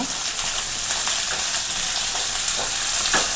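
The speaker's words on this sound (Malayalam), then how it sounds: "നന്നായിട്ട് വഴറ്റിയെടുക്കുക" Shallots for egg thoran sauté in hot oil, giving a steady close sizzle and hiss throughout, with a few soft spatula scrapes and stirring sounds and no talk.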